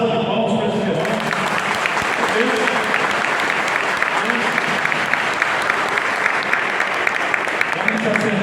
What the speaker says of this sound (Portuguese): Uma salva de palmas para esses irmãos.